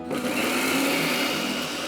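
A kitchen grinder whirs steadily as it finely grinds chopped green chillies, a loud continuous high-pitched motor hum running without pause from start to finish.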